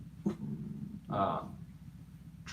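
A dog makes a few short, gruff vocal bursts close by, one loud growly bark standing out in the middle, with low household rumble underneath.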